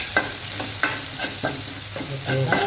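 Garlic and onion sauté in a pan for pancit luglug, a steady sizzle broken by repeated scraping stirs of a utensil at a roughly even rhythm, close and fairly loud.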